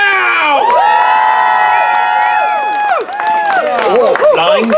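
A theatre audience at a Shakespeare performance of Romeo and Juliet cheers loudly, with children shouting, hooting and whooping voices, and scattered clapping throughout.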